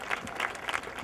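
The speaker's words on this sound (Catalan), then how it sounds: "un aplaudiment" Brief burst of audience applause at an outdoor gathering in a city square, scattered claps from a crowd heard at moderate distance, with no one speaking.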